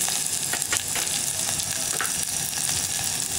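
Asafoetida powder sizzles and fries in hot oil while mint rasam is being cooked, a steady close crackling hiss with small stirring clicks running throughout.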